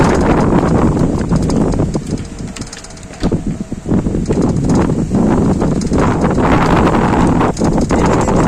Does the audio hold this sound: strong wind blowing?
yes